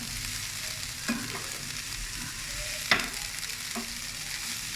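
Chicken samosa filling roasts in a pan with very little oil, giving a soft steady sizzle with occasional scrapes and clicks of stirring, close and alone.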